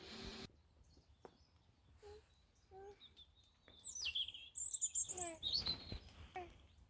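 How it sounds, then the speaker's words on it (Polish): Birds sing in the morning at a family campsite, scattered chirps and tweets from several birds that grow louder and busier toward the end, heard near and far in quiet open air. "I ten śpiew ptaków,"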